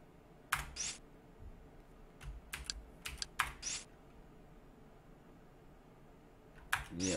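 Keys clatter on a computer keyboard as a username and password are entered, with short bursts of quick clicking separated by pauses, close and fairly quiet, with no talking.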